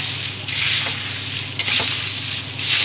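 Popcorn chivda is tossed and stirred in a pan with a little oil, making a loud, steady hiss and rustle of crisp pieces with a few scraping accents throughout, and no talking.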